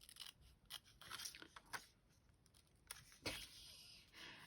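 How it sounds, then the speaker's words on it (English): Scissors snipping through paper while cutting out a paper doll, a series of close, quiet crisp cuts in uneven bursts with short pauses between them. "I'm going to cut around the bag"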